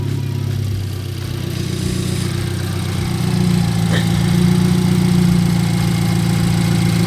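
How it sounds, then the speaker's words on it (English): A BMW F31 engine with a boost leak on the turbo inlet idles with a continuous, slightly uneven low hum, steady and close throughout without any voices. "I know the idles are gonna idle a little bit funny because of that little boost leak"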